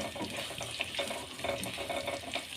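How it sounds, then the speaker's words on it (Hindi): Rice flour and chana dal fara frying directly in a pan, whole rather than cut into pieces: a steady soft sizzle with faint stirring scrapes, moderately close and continuous, with no talk. "हम इनको इसी तरह से डायरेक्ट फ्राई कर रहे हैं।"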